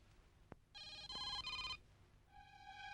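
A telephone rings indoors: a sharp click, then a bright electronic trill that sounds for about a second and starts again after a brief pause. It is quiet overall, with no voices.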